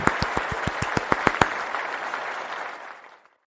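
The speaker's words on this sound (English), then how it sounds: "Rousing round of applause as she leaves the show." Applause from a small group: several distinct, evenly paced claps over a dense patter that thins and fades to silence within about three seconds.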